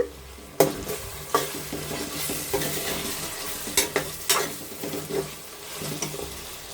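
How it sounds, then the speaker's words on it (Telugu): Fried paneer and biryani powder are stirred together in a sizzling pot, a continuous fry under repeated close spoon scrapes and knocks against the pan. "బాగా కలుపుకుందాం మసాలా పట్టేలాగా"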